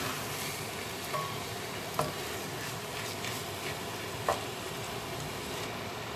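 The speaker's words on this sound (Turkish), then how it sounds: "Şöyle tuzla ve baharatla soğanla iyice karışana kadar hafif hafif ezmeden ince ince karıştırıyorum." Greens with onion, salt and spices being stirred gently in a frying pan, a steady soft sizzle with a few light utensil taps and scrapes against the pan, close and alone.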